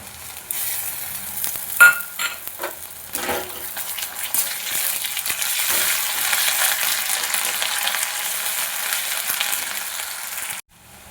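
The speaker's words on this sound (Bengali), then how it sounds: "পেঁয়াজটা আমার মোটামুটি ভাজা হয়ে গেছে এবার এর মধ্যে দিয়ে দেবো আদা রসুনের পেস্ট" Onions frying with ginger garlic paste in a pan for a mutton dish, a dense continuous sizzle with scraping stirring strokes and a few knocks of the utensil, close and loud, no speech.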